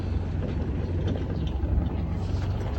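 A tractor rolls ahead with a Honda Activa scooter following behind on a farm road, giving a steady, close engine rumble with wind buffeting and no break.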